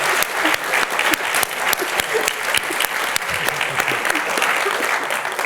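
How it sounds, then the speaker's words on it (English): An audience applauds the contractors at a prize celebration event, a steady, dense patter of clapping hands throughout. "Can we have a big round of applause for the contractors?"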